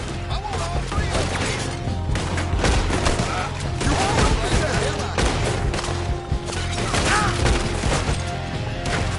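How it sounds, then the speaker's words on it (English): Dense, continuous gunfire from a shootout in the video game Red Dead Redemption 2, with rapid overlapping shots and crashes piling up for the whole stretch over a steady musical and ambient bed, with voices mixed in. "We'll have to shoot our way out."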